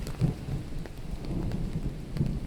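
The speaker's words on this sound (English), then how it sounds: "Is the thunderstorm too loud?" Steady rain pours throughout, with low rumbling thunder swelling in a few soft rolls beneath the downpour; no voices are heard.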